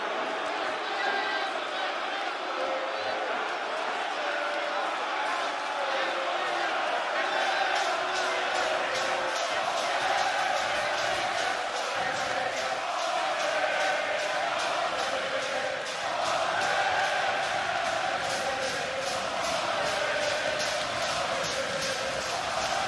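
A packed wrestling arena crowd at AEW All In chants in steady rhythmic unison, with claps or stomps pulsing through a loud, continuous roar while commentators talk over it.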